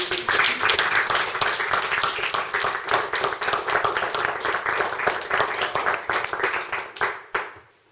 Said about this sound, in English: So I say we need to applaud ourselves right now.